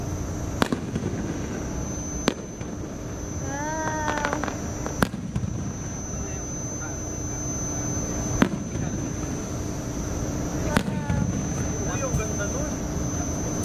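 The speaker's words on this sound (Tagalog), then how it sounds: "Ngayon lang ulit ako nakanood ng fireworks" Distant fireworks thud and crackle every few seconds, with whistling rockets arcing up between bursts over a constant outdoor background hum, at the Enchanted Kingdom theme park.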